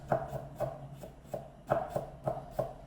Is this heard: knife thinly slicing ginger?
yes